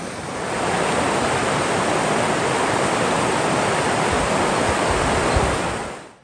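The Burrows River, recently swollen by spring flooding, rushes steadily in a broad, loud wash of moving water heard alone and close by.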